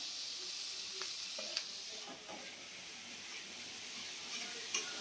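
Onions and spices frying in a pan for a Moghlai paratha filling, with a soft, steady sizzle and hiss and a few light stirring clicks, fairly quiet and close, without speech.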